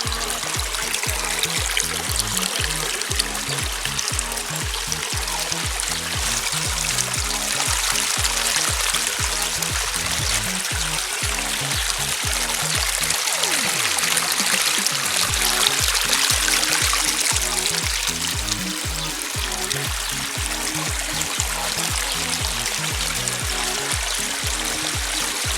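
Water trickles and splashes steadily in an old, man-made-looking garden waterfall feature, a continuous close wash with no voices.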